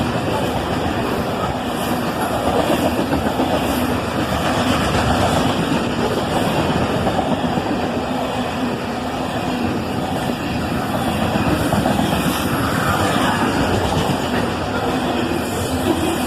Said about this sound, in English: And that was a pretty quick tanker train.